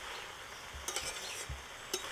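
Pumpkin greens are stirred with spices in a pan, with a soft sizzle underneath and a few scraping clinks of a utensil against the pan, close and fairly quiet.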